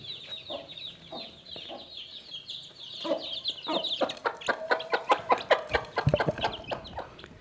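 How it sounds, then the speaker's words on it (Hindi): Chicks at an Aseel hen house cluck and peep while eating, their high chirps sounding close and continuous, turning into quicker, busier pecking clucks toward the end. "आप देख सकते हैं हमारे नन्हे मुन्ने चिक्स आ गए हैं। ये कितने शौक़ से हमारे चूज़े इसको खा रहे हैं।"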